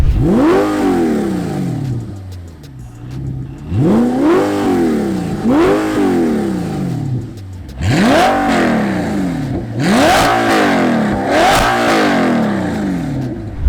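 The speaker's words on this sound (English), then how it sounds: "And then you have the fully unleashed open exhaust system. And that just sounds crazy." A 2008 Audi R8 engine with an open exhaust revs repeatedly, each blip rising sharply and falling back, close by with aggressive crackling bursts.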